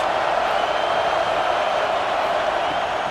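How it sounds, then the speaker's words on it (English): A stadium crowd at an Oregon vs Washington college football game keeps up a steady, broad roar on a big third down, a constant wash of distant cheering with no breaks. "Big 3rd down as the crowd gets behind this defense."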